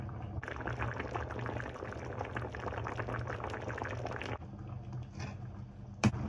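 Cream sauce with carrots simmering and reducing in a pot gives a steady, dense bubbling hiss that runs close and loud for several seconds, then drops away, leaving a quieter background and one sharp clink near the end.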